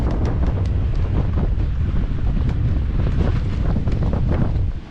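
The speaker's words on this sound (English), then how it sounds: "Very windy. It's been very windy all night." Strong wind gusts roar across a sailboat on a mooring buoy in the Tobago Cays, Grenadines. The microphone buffets loudly and constantly, and the sound of water is mixed in.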